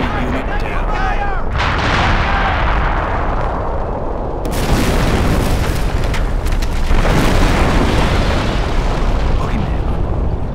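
Artillery blasts and bursts of gunfire from a Company of Heroes battle roar almost continuously at high volume, with heavy booms layered over a dense rattle and game voices briefly cutting in near the start.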